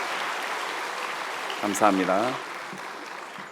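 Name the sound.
audience applause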